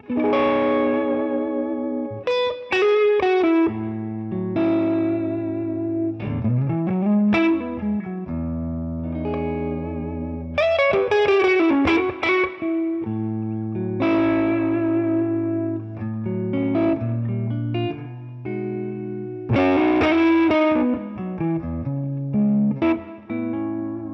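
An electric guitar, a Les Paul with a Floyd Rose on the neck pickup at moderate gain, plays melodic phrases with bends and sustained notes in a warm, slightly overdriven tone, loud and alone.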